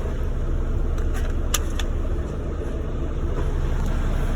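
A semi truck idling in drive after coupling to a trailer's fifth wheel and kingpin, a steady close diesel rumble with faint metallic clinks and rattles over it.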